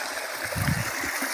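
Irrigation water runs along a channel in a farm field, a soft steady trickle with a few low gurgles, close and faint.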